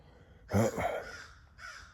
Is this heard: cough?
no